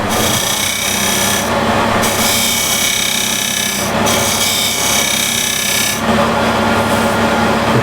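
A skew chisel is held on its side against spinning wood on a lathe, cleaning up tear-out at a box corner, giving a loud continuous scraping rasp with short breaks as the tool lifts off.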